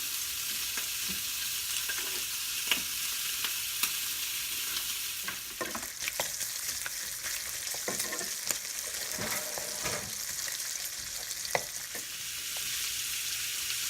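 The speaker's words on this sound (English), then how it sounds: "as these start to cook, you can kind of start breaking up these 1/4-inch slices from the whole slab so that they all fry evenly" Quarter-inch slices broken from a slab fry in a pan for collard greens, giving a steady close sizzle broken by frequent scraping and stirring clatter, with no voices.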